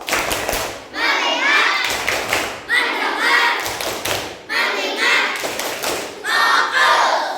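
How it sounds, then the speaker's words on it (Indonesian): Primary-school pupils in a classroom perform a patterned focus clap, repeated rhythmic bursts of claps and thuds mingled with loud children's voices chanting along. "tepuk fokus"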